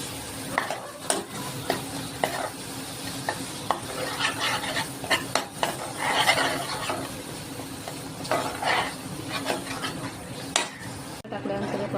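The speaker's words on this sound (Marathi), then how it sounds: "थोडी चांगलं परतून द्या, एकजीव करून द्या" Ground masala paste being stirred and sautéed in a pan, with irregular scraping and clinking of a spatula against metal over a soft, continuous sizzle, close and moderately quiet.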